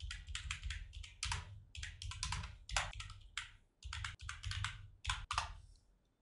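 Typing on a computer keyboard, with close, quiet bursts of key clicks in an uneven rhythm and brief pauses between the runs.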